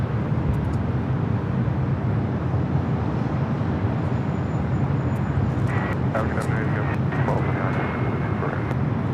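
Airbus airliner on final approach to runway 24 right at LAX, a broad steady engine roar under a voice, with faint higher tones near the end.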